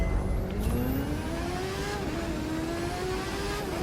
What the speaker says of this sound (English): Time to go fast with a Kawasaki motorcycle.